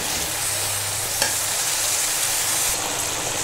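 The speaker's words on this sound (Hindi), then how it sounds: "सालन को उबाल आने लगा" Aloo baingan salan curry in a karahi coming to a boil: a dense, steady bubbling and sizzling close by, continuous for a few seconds with no talking.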